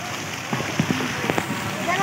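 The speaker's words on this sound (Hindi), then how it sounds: "पहले ये देख सकते पानी वाला फुहारा" A water fountain sprays in Kashmir Park, DHA Multan, a steady hissing patter of falling water close by, with someone talking over it.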